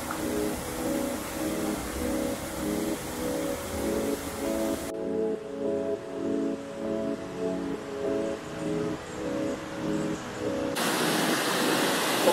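Rushing water cascades steadily as a loud, continuous broadband roar from a nearby waterfall at the Birks of Aberfeldy in the Scottish Highlands in autumn, with no talking.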